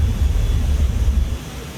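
A Su-25T attack jet takes off in the DCS flight simulator. Its engine roar is a steady, loud, low rumble with wind-like hiss, easing off slightly toward the end, and no voices.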